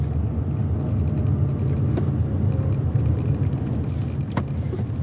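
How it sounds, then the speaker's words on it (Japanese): A Nissan Skyline V35 coupe engine-brakes in second gear at about 2500 rpm, giving a steady, loud low drone with road rumble from inside the car and a couple of faint clicks. "このままエンジンブレーキで行くとあんまりブレーキ踏まずに止まれると思います"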